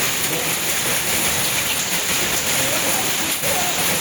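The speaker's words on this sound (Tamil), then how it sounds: "ஹேல் ஸ்டார்ம்ஸா பெய்யுது" Heavy rain pours down during a hailstorm in Bengaluru: a dense, constant roar of water hammering nearby surfaces with no letup, loud and close throughout.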